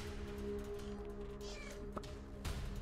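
A cat gives a short, faint meow under a steady low electrical hum and background noise, with no talk over it.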